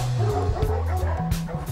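A dog at boarding kennels on a moor, loud close bow-wow barks with yips and whimpering howls, tonal and wavering, over several overlapping calls.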